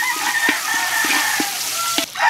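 A native chicken clucks loudly in repeated short bursts over steady background noise, fairly close and continuous throughout.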